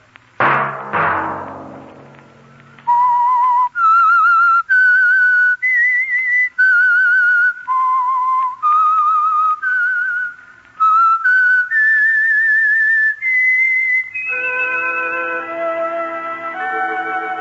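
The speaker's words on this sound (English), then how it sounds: "Let that whistle be your signal for the Signal Oil program" The signature whistled theme of the radio drama The Whistler: a melodic tune of sustained, slightly wavering notes, loud and close, following a brief clatter at the start and ending on a fuller held chord.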